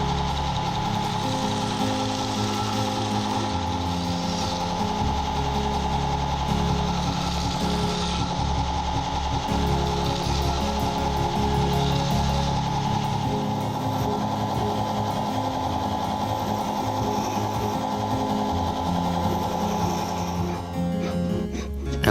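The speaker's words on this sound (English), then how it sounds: "Then I sand the profile of the knife." A sander grinds steadily along the profile of a handmade knife blade, a continuous loud abrasive whir with shifting pressure that runs throughout before trailing off at the end.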